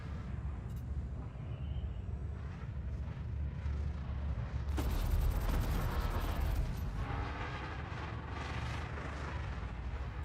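Cannon fire in a combat flight video game, a continuous loud rumbling roar with a sharper burst partway through, heavy and dense without distinct separate shots.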